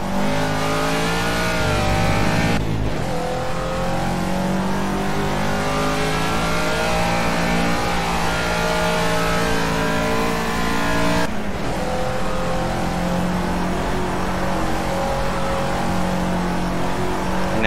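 A Caterham Super Seven race car howls around Snetterton in Project CARS, its engine revving high and steady close up, with two sharp gear-change dips and the pitch rising and falling through the corners.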